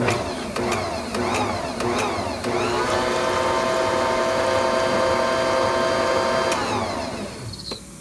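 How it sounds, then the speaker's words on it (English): An electric mixer fitted with whisk blades churns whole wheat bread dough, sounding as a loud, steady motor whine close by after a few short clicks, then easing off at the end. "just gonna carefully mix it in. And we still have on the whisk blades, not the kneader blades"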